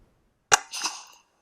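A single sharp .17 HMR rifle shot fired at a rabbit, a loud crack followed by a short rolling report, heard alone outdoors.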